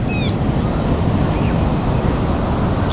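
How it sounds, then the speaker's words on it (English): Ocean surf at Kata Beach, Phuket, roars as a loud, continuous rush of churning waves mixed with wind, with a brief bird chirp at the start. "Look at the waves now."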